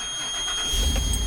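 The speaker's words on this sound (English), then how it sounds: "So I'm going to start the bus up." A school bus diesel engine cranks and catches, rising into a loud, rough low rumble in the last half second, heard close with no talk.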